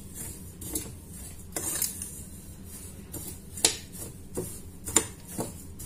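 Bread dough ingredients are mixed in a bowl, with soft scraping and several sharp clinks of a utensil against the bowl at an irregular pace, fairly close and moderately quiet.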